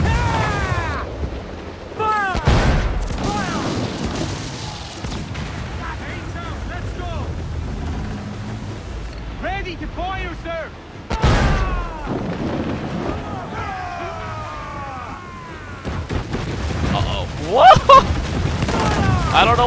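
Naval cannon fire during a ship battle in Assassin's Creed 4: Black Flag on PC: a few heavy booming blasts burst out between stretches of voices, over a steady backdrop of wind and sea.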